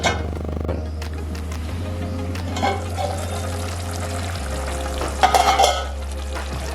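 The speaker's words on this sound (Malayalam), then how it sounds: "ഇനി അരിഞ്ഞ് വെച്ചിരിക്കുന്ന തക്കാളി ചേർത്ത് കൊടുക്കാം." Chopped tomatoes frying and being stirred in a Kerala chicken curry masala: a steady, moderate sizzle with a low hum beneath, soft scraping stirs and a brief louder clatter near the end, with no voices.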